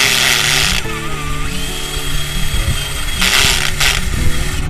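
A loud, steady power drill whines continuously as it drills into a pipe, its motor pitch shifting slightly as it bites into the material, with no voices.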